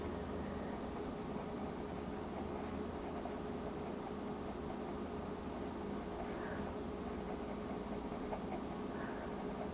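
Colored pencil drawing on paper: a steady, soft scratching of pencil strokes that keeps going throughout, quiet and close with no voices.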